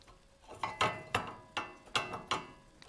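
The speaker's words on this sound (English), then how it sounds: "Hitting the spanner." A spanner strikes metal during a fiddly job lining bolts up with holes, giving seven sharp clanking taps at an irregular, fairly quick pace, close and moderately loud with no talk.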